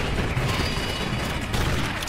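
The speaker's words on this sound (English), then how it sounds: "he's just shooting me with a shotgun with like 12 bullets in each shot" Shotgun fire in the video game Secret Ponchos comes as a dense, continuous burst of booming gunshots that stays loud and rough for the whole two seconds, with no talking.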